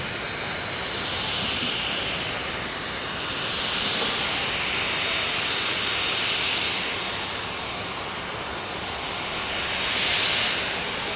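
A Ryanair airliner rolls past at Manchester Airport, its jet engines giving a steady, loud roar that swells and eases gently as it taxis by, with no voices.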